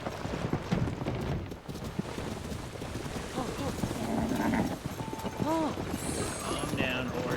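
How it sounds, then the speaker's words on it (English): Horse hooves galloping in The Legend of Zelda: Tears of the Kingdom, a steady clip-clop mixed with game music and effects, while a person talks over it. "Calm down, horse."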